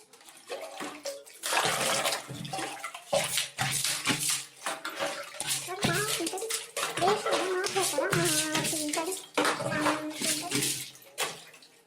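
Water splashes and pours in repeated bursts, close by, while people talk over it.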